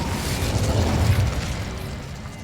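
An Incendio fire spell blast in Hogwarts Legacy: a dense, roaring burst of flame with a rumbling low body that lingers for a couple of seconds, heard alone.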